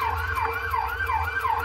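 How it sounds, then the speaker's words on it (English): A wailing ambulance siren rising and falling in a steady cycle, loud and close, with a vehicle rumble underneath. "who is only a year into the job, and David, will be the first fully equipped ambulance crew to arrive."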